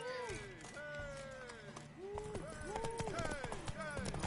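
Rapid hoofbeats of a horse in The Witcher 3 clop along under a busy mix of voices and tonal calls, growing louder and denser toward the end.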